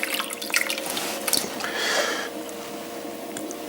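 Water squeezed from a sponge while cleaning a pottery wheel bat, a soft wet squish and trickle swelling near the middle, with faint drips around it and no talking.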